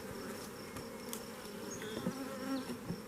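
Honey bees busy working at a hive with nectar-filled supers, a dense continuous buzzing drone with individual bees whining close past now and then, steady and moderately loud throughout.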